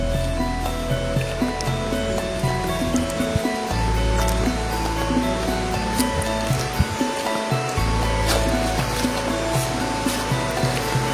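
A river stream flows around a remote village deep in the forest of Central Java, a steady broadband rush of moving water with faint scattered clicks and small tonal sounds mixed in, continuous and fairly close.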